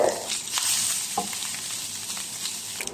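Garlic frying in a pan for sinangag, Filipino garlic fried rice, a steady close sizzle with crackling pops and scraping stir strokes throughout, no voices.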